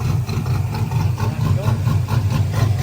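LS V8-swapped BMW E36 idling with a loud, lumpy low rumble that throbs steadily throughout, heard close up without any clear rev rise, while someone speaks over it.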